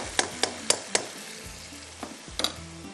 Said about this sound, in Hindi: पहले इसकी बुनाई कीजिएगा ताकि ये प्याज भी अच्छी तरह से घुल जाए